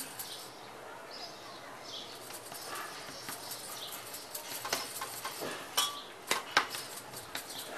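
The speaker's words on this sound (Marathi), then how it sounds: "अशा प्रकारे ही पण भाकरी थापून घ्यायची." Finger millet (nachni) bhakri dough patted by hand with water, giving quiet soft slaps and taps that grow denser and sharper toward the end, close and fairly faint.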